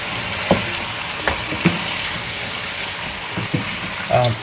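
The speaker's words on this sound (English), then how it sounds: "and then further fry it for maybe a couple of minutes" Chicken and spices frying in a karahi, a steady sizzle with occasional stirring scrapes and clinks, close by, no talk.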